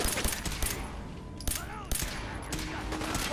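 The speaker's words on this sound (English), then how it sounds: "We are being shot at." Rapid bursts of gunfire from the video game Fallout 4, several sharp volleys close together across a few seconds, with a voice faintly present underneath.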